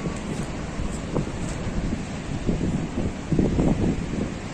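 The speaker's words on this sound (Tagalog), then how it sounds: "Grabing lakas ng alon" Strong ocean surf churns under heavy wind buffeting, a steady loud roar with surging wave crashes building toward the end, recorded outdoors near the shore with a DJI Mavic drone.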